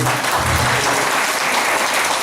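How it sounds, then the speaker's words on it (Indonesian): An audience applauds steadily and densely at the inauguration of a new regional hospital building in Gunungsitoli, Nias. "Mari kita beri tepuk tangan."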